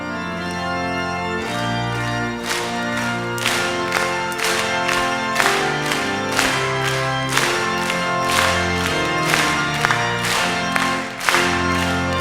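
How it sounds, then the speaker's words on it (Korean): A church congregation at a 1997 prayer meeting claps along to a hymn, regular rhythmic hand claps on the beat over sung melody and accompaniment, loud and continuous. "박수 치면서 찬양하겠습니다"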